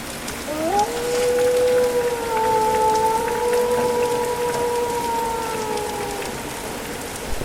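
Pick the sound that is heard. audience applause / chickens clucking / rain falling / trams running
rain falling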